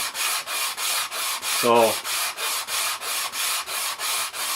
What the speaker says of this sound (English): So basically what I do is I sand it by hand